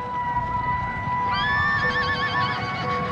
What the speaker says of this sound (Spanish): Sus caballos se levantaban, se erguían.